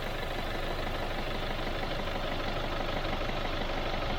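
A diesel car engine idles with the bonnet closed, recorded from outside, giving a dense, steady low rumble with a faint mechanical clatter. It holds constant throughout and no one speaks.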